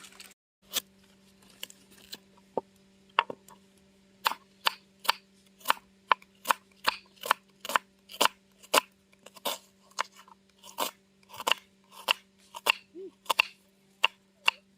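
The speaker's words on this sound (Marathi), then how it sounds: "कांदा चिरून घेते आता." Onion being finely chopped on a board outdoors by a river, a series of crisp knife taps that start sparse and turn into a fast, steady rhythm, close and clear over a faint constant hum.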